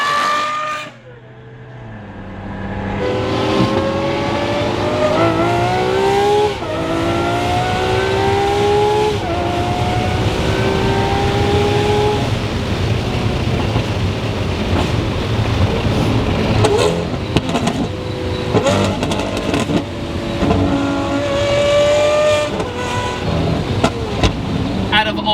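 A loud, raspy straight-piped Lamborghini SVJ engine drones and revs continuously, pitch climbing through gears as the car accelerates hard, close and steady throughout.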